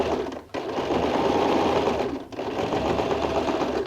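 A sewing machine stitches binding along a dress hem, running in a loud, close, steady whir with two brief pauses where the stitching stops and starts again.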